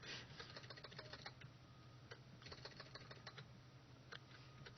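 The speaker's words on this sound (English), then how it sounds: "Typing is so much more fun." Fast bursts of clicky typing on a computer keyboard, close and crisp, with short pauses between flurries over a faint low hum.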